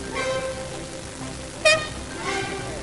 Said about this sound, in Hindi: अपना हॉर्न बजाओ